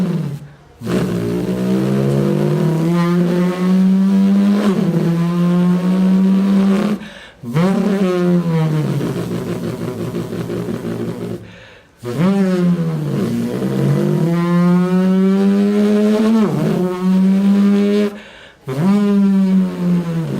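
A human voice imitates a supercar starting and revving, with long roaring vocal engine notes that rise and swell in four loud bursts separated by brief pauses.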